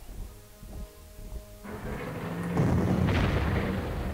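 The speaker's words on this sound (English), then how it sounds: "there's an artillery unit there, really?" Artillery fires in the wartime strategy game Panzer Corps, deep rumbling booms swelling into a loud, sustained roar with crackling debris, after a quieter stretch of low thuds.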